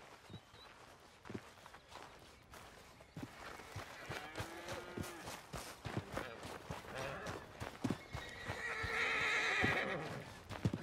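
Horse neighs and whinnies with clip-clopping hooves in Red Dead Redemption 2. Several soft hoof strikes come first, then rising neighs and snorts build to a loud whinny near the end.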